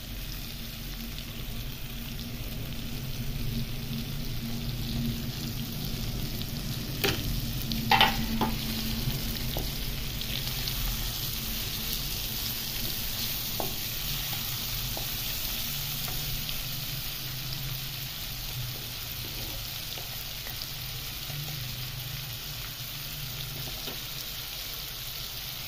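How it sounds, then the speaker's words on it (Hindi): Onions frying in a karahi for chicken karahi, a steady, close sizzle with occasional stirring scrapes, continuous and alone. "अब इसमें ये प्याज डालते हैं"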